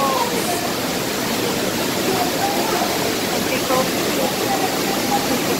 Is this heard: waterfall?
yes